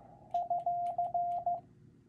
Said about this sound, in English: that's what UR sounds like really fast, or ran together